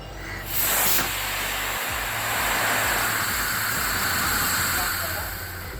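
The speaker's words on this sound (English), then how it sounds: "let's test the other version of this rocket, in which we are going to reinforce the rocket motor with some PVC pipe" A sugar-propellant rocket motor reinforced with PVC pipe fires outdoors, opening with a sharp burst, then settling into a sustained roaring hiss that holds steady for several seconds, loud and fairly close.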